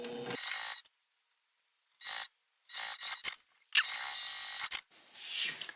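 Sewing machine running bursts of top stitching along a backpack seam, several short rapid whirring runs separated by pauses, close and fairly quiet.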